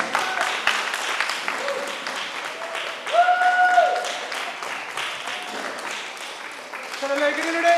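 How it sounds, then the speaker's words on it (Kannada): Loud applause from a crowd at a yoga sports event in Davangere, dense clapping throughout with music and a voice talking over it. "ಜೋರಾದ ಚಪ್ಪಾಳೆ"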